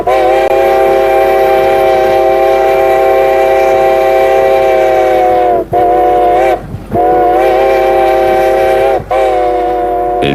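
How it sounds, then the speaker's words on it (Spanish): A train horn sounds as it approaches a level crossing, a long loud sustained blast followed by shorter blasts with brief gaps between them, steady and close. "Ante un paso a nivel, oiréis dos silbidos largos, uno corto y uno largo a medida que nos aproximamos al cruce."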